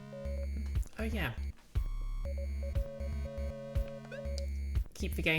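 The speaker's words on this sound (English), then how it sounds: "part of this background music loop that sounds a lot like Morse beeping" Short Morse-like electronic beeps repeat through a looping video game background track, sitting as steady tonal pulses against the layered music.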